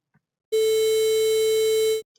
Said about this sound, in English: And this is what happens with the distortion.